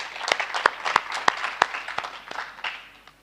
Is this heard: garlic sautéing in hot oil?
no